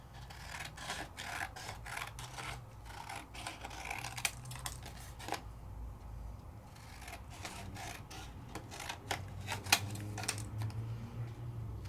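Craft card stock being cut down to size for a 5x7 card project, giving a series of quiet, irregular scraping and snipping strokes close by, with no voices.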